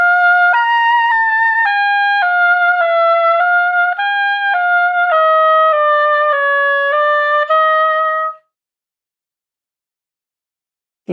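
Solo oboe slurs every note of a competition etude in a smooth, even run of connected notes, loud and close, before stopping into silence near the end.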